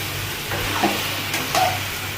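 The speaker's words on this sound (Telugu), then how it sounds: "కట్ చేసుకున్న బెండకాయలు వేస్తున్నాము చూడండి" Sliced okra sizzling and frying in a pan over a medium flame, a steady crackle with a couple of brief stirring scrapes, close and alone without talk.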